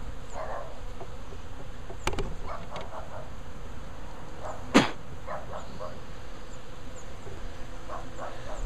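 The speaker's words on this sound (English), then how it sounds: "Okay, we have just lots and lots of bees swarming." Dense buzzing of many honeybees swarming spilled syrup feed close by, a constant droning hum with individual insects passing near, plus a sharp click midway.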